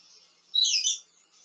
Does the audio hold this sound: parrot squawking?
yes